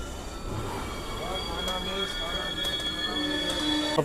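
Bokaro Express pulling into Sambalpur Junction, a steady rumble of rolling coaches with faint wheel squeal and station bustle, people talking nearby throughout.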